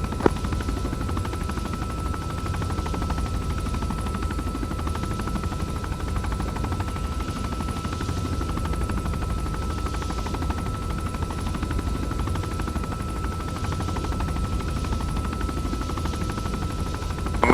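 Military video game battle with rocket-armed enemy helicopters: a steady, droning rotor and engine rumble runs throughout, with faint distant gunfire mixed in and no talk.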